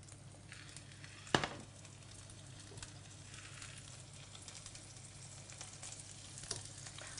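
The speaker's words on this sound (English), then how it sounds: "now I'm going to fry off the venison" Venison frying in a pan at Cromleach Lodge, a steady broadband sizzle filling the whole stretch with a brief louder crackle or clatter near the start and a small one near the end; no talk.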